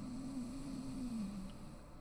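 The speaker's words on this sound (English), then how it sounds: "Snoring like that" A video game character in Maize snores in one long, low, droning breath over steady background hum, clear and close, with no talking.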